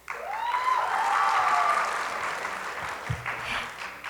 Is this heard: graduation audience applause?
yes